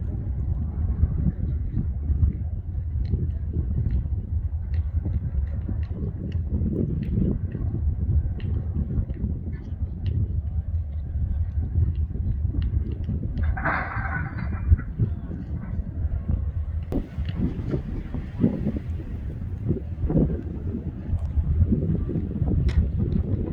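A locomotive of the Mauritania iron ore train rumbles low and steady in the distance, a continuous engine drone mixed with wind noise.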